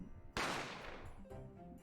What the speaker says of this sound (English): I didn't have time to think about where the sound of the gunshot come from